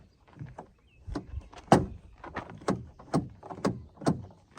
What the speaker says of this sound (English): Verify that your door lock works.